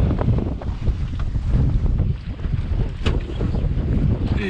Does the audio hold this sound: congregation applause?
no